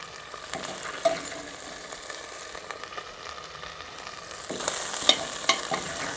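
Beef sizzles in a cast-iron Dutch oven as the last pieces are lifted out, a quiet, continuous frying crackle with a few sharp clinks and scrapes of the utensil.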